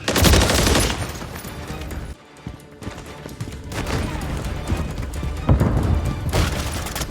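Rapid, dense gunfire and explosive bursts from the video game Modern Warfare 3 fill nearly the whole stretch, loud and continuous apart from a brief lull near the middle.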